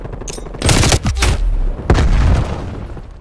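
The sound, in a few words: grenade thrown, gunfire, in video game Call of Duty Black Ops Cold War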